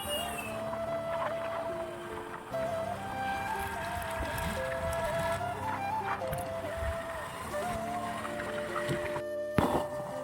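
A boat engine drones steadily at a river ferry ghat, a continuous low hum with a tonal whine on top, mixed with ambient bustle and a brief clatter near the end.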